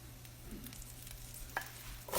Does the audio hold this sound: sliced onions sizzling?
yes